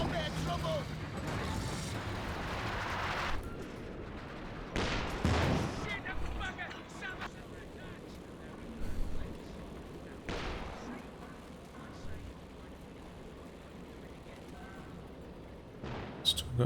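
Rocket fire from a Raketenwerfer anti-tank gun in Company of Heroes 2, a loud blast near the start and sharp bursts around five and ten seconds amid battle noise, with a commentator speaking over it.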